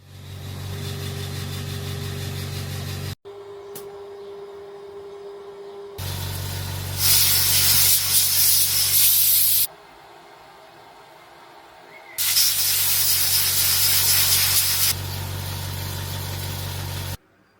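Compressed air blasts onto a freshly welded steel plate, with two long bursts of loud hissing air separated by a quieter gap, all over a steady mechanical hum.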